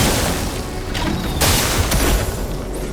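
A heavy attack explosion in Clair Obscur: Expedition 33, a dense burst of booming, crackling impacts over about three seconds, with a sharp crash near the middle and no talk over it.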